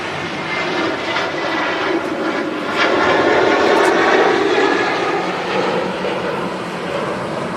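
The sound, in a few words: SunExpress jet airliner taking off from Manchester Airport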